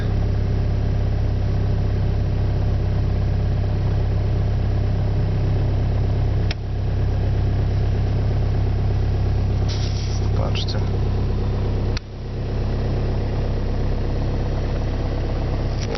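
A steady, low diesel engine idle from a 2004 VW Passat 1.9 TDI rumbles close by for the whole stretch, with a couple of brief clicks partway through.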